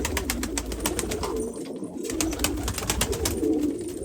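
Pigeons cooing in low, throaty rolls, several birds overlapping continuously, close by and fairly loud with rustling in the background.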